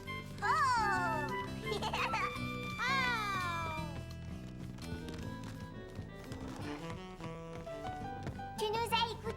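A cartoon cat meows several times in drawn-out, sliding cries over a musical score, with a voice and light laughter mixed in, in a French-language children's animated series.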